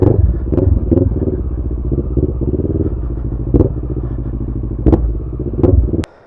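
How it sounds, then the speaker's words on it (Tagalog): An adventure motorcycle ridden along a mountain road in Mountain Province, a close, steady engine rumble with shifting pitch, punctuated by sharp clacks and knocks before cutting off abruptly. "Adventure bike is for adventure ride."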